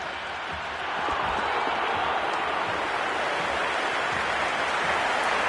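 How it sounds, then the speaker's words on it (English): Stadium crowd roaring in the cricket video game Cricket 26, a steady, loud wash of cheering that swells after the first second and holds without a break. "The crowd is electric right now."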